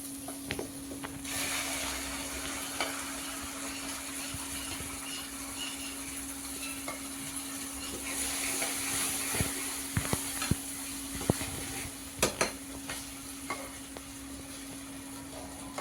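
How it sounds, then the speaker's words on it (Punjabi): An onion tadka fries in a pan for Punjabi saag, giving a steady, close sizzle with scattered stirring clicks and scrapes and no talking. "ਤੜਕਾ ਲਾ ਲਈ ਸਭ ਨੂੰ ਫਿਰ ਮਰਜ਼ਾ ਤੇ ਚਲੋ ਲੋ ਤਾਂ ਲਈ ਪਿਆਜ਼ ਆਪਣਾ ਭੁੰਨਿਆ ਗਿਆ ਬਰਾਊਨ ਹੋ ਗਿਆ"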